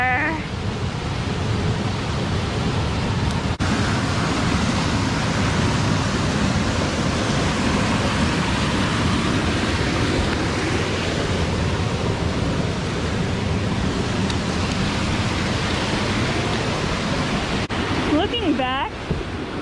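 A waterfall on the Eye of the Needle Trail along the Buffalo National River roars as a loud, constant broadband rush, filling the whole stretch with only brief faint noises near the start and end.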